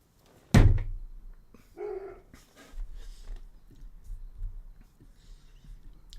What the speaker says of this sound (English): Oh, there's a dog.